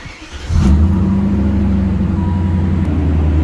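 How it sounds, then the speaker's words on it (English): A 2000 BMW M5 on a cold start: a quiet engine rises into a steady, loud idle that holds at an even note with a slight rhythmic throb, with no talk over it. "It is a cold start."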